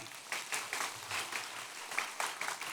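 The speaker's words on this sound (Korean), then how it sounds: "잠시 박수로 환영하겠습니다" A church congregation applauds during a worship service, steady dense clapping with a few louder swells, moderately close and without talk.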